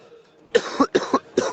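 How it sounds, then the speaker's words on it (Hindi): A man coughs several times in close succession, loud and near, with a rough throat-clearing quality and short pauses between bursts. "देखो गला भी खांसी आ रही है।"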